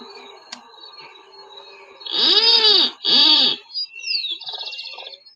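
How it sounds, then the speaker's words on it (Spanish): White-tipped plantcutter (Phytotoma rutila) singing in an urban area, two loud, harsh, creaking bursts like a rusty door hinge, followed by a shorter rasping note and a softer buzzy trill, over faint background birdsong. "Ese es el canto de Phytotoma rutila"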